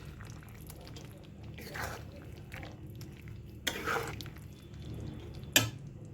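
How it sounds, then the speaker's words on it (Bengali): Ground poppy seed paste stirred into shukto, a Bengali mixed-vegetable dish with lentil badi, in a cooking pot: soft scraping and stirring over a low sizzle, with a few sharper clinks of the spoon against the pan. "বেটে রাখা পোস্তটা ভালো করে মিশিয়ে নেব"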